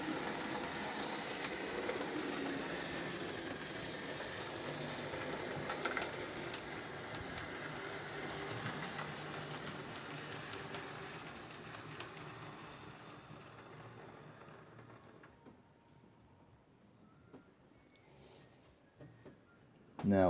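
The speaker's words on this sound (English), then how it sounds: "I've kind of recreated that train here with a 31 and some Mark 1 coaches" A model Class 31 diesel locomotive pulling Mark 1 coaches rumbles along steadily on its track, a continuous clattering whir that slowly fades and quiets toward the end.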